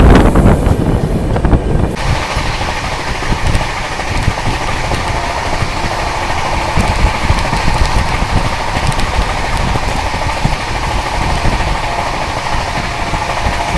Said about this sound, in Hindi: तो भाई अपनी ट्रेन पहुंच चुकी है वृंदावन रोड पर